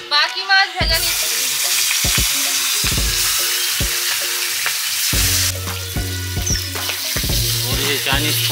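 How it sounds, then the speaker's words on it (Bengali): Fish frying in a pan, a loud continuous sizzle throughout with occasional clinks and stirring sounds, close and prominent. "বাকি মাছ ভেজে নিচ্ছি।"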